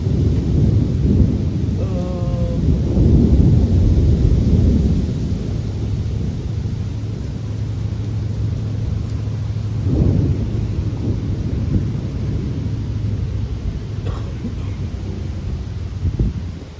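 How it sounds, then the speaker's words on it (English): A thunderstorm with steady rain outdoors, a constant hiss of falling rain with wind buffeting the microphone and a low rumble of thunder, fairly loud and continuous; a faint voice is briefly audible. "I think it's starting to rain."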